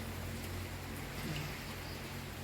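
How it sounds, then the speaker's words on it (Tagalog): Steady rain falling outdoors, a faint even hiss of drops with no voices. "Ulan lagi."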